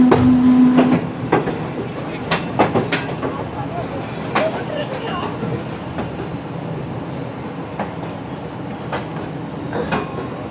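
Shalimar Express rolls toward Sangla Hill station in Pakistan, heard from inside the carriage as a steady rumble broken by sharp rhythmic clacks and rattles over the rails.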